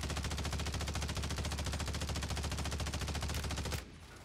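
Loud, rapid sustained automatic fire from a BAL 27 rifle in Warzone 3 on Rebirth Island, an unbroken stream of shots lasting several seconds before stopping abruptly.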